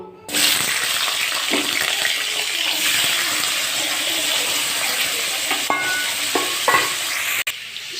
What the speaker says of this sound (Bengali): তেলটা আমার গরম হয়ে গেছে আমি এই সবজিগুলো এর মধ্যে ভেজে নেব